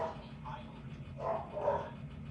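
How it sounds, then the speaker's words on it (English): A dog named Pegasus barks faintly in the background, a few muffled yips spread over a couple of seconds against low indoor room noise. "I'm sure y'all hear my Pegasus barking in the background."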